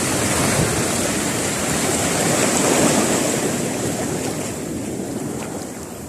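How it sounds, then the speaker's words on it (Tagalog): Large sea waves churning and crashing close by around a boat on murky open sea, a loud unbroken roar of surf and spray with wind buffeting the microphone throughout. "Ako, may malaki na ng mga alon."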